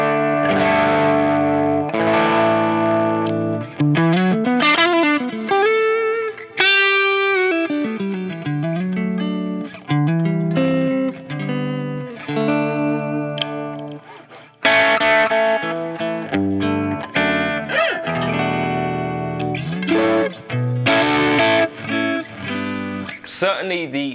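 Electric Telecaster with three brass saddles and a nitro finish, played through effects with distortion and chorus, sustained chords and melodic lines ringing out loud and continuous for the whole passage.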